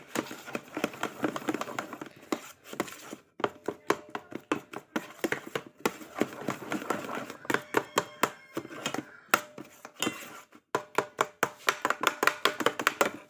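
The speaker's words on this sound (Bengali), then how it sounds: "এটাকে এবার বিস্কুটের সাথে ভালো করে মিক্স করব" Biscuits being mixed with a couple of spoonfuls of milk in a bowl, giving a rapid, uneven series of crisp crunching taps and crackles that pause briefly now and then, with no talking.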